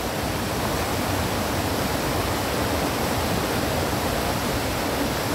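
Waterfall in the magic forest at Hintersee, a dense, constant roaring rush of falling water heard from a little distance, steady and loud throughout with no voices.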